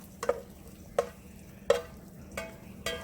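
A spoon stirs cooked ground beef in a pan for egg rolls, making about five distinct scraping strokes at irregular intervals over a quiet, low background.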